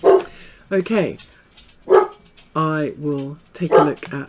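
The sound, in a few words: dog barking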